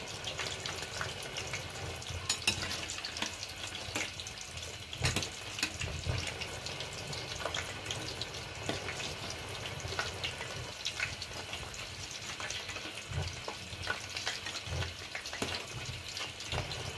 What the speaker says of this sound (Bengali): এই বড়াটার এক পাশটা ভাজা হয়ে গেছে। এবার আমি অপর পাশটাও ভেজে নেব।